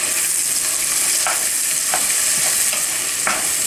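Onions, potatoes and garlic fry in a pan with a steady, close sizzle, and a few soft scrapes come as the pan is swirled. No one speaks.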